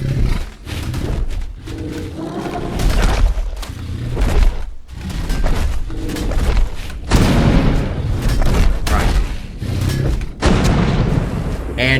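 Gunfire and booms in the Ark video game on the Valguero map, aimed at a creature attacking a cannon, loud repeated blasts mixed with animal roars and a speaking voice over the top.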